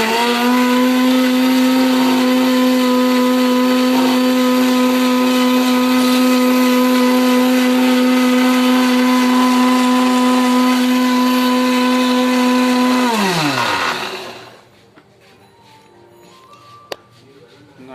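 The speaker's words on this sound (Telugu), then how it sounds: "మిక్సీ" A kitchen mixer grinder blends Oreo biscuits with milk and sugar, whirring loudly at a steady high pitch for about thirteen seconds before winding down and stopping, leaving near silence.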